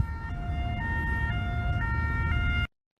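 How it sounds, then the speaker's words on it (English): A two-tone European-style siren alternating between a high and a lower pitch in steady hi-lo cycles, loud and continuous, stopping abruptly near the end with no talking. "This is a European siren."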